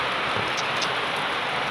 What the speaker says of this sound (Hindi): बारिश देखो, बारिश कितनी सारी बारिश हो गई।